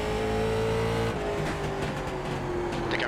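A late model race car engine in the iRacing sim at Lanier National Speedway drones at a steady high pitch, easing down slightly as the car rolls through a corner, loud and continuous with no talk.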